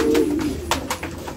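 Pigeons cooing inside a pigeon house on a rooftop at midday: a low, throaty coo opens the clip and fades, followed by several short, soft flutters and calls, fairly close and alone with no talk.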